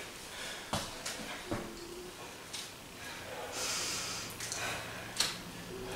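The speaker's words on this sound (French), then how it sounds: "Puis là, on continue à respirer." Heavy breathing during a breathing exercise: a series of sharp, close nasal snorts and forceful exhales at an irregular pace, each followed by a softer hissing breath, with no talking.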